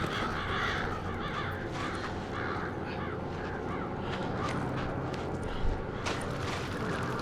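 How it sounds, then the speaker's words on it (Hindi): Crows cawing repeatedly around a village in Resident Evil 5, harsh caws rising over a dense, rumbling game ambience, fairly close and steady throughout. "और ये कौवे आसपास क्यों मंडरा रहे भाई?"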